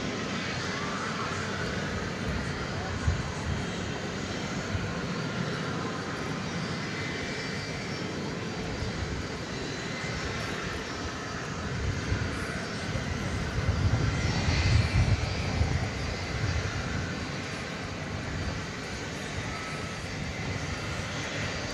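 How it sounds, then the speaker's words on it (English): China Airlines Cargo Boeing 747 jet moving on the ground at DFW at night, a continuous distant engine rumble and whine that rises slightly midway, heard alone. "So the China Airlines Cargo 747 is moving."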